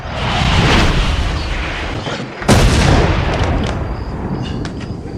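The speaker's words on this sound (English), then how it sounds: "A meteor crashes straight in." A meteor crashes into a house as a film effect: a loud, sustained rumbling roar, cut by a sudden sharp boom midway, then a debris-filled rumble that fades.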